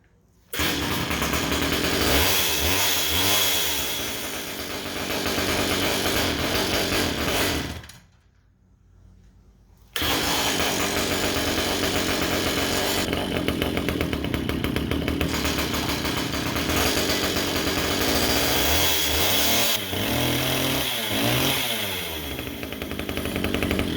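A Stihl 010AV chainsaw, an old family heirloom that is hard to start, runs loudly nearby with a buzzing two-stroke tone that rises and falls, briefly drops out to near silence, then starts and carries on running.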